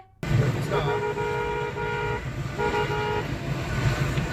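A car horn honks in two long, steady blasts at a trolley ahead that won't give way, amid loud road traffic, with a vehicle engine rumbling throughout.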